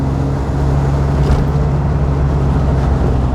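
A 1953 Aston Martin DB2 Vantage drophead coupé engine pulls steadily under throttle, a loud, continuous low rumble with a firm drone rising slightly as it accelerates, heard from close by without talk.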